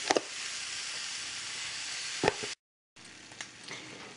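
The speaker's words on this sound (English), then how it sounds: "So my veggies have been cooking for a few minutes now." Crushed garlic and shredded zucchini sizzle in a pan with a soft, steady hiss. A few stirring clicks break it up, and there is a brief gap of silence partway through.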